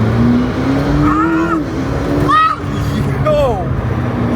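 A car accelerates hard with boost, its engine note climbing loud and close through rising revs with quick shifts between pulls, over about four seconds.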